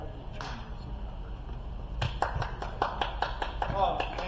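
A few members at a club meeting clap in a loose, irregular run of separate claps that starts partway through, with people talking over it.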